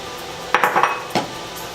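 Scrambled eggs tipped from a dish into a pan of browned cauliflower fried rice, giving a few quick clinks and scrapes of a utensil against the pan, close and moderately loud with no talking.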